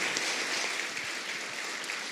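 Church congregation clapping steadily together during a Portuguese-language worship service, a dense even patter of many hands at moderate distance with no voices over it.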